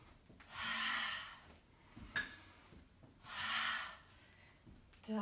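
Two long, forceful breaths pushed out during a home cardio workout with hand weights, close and breathy, separated by a brief sharp sound and quiet pauses.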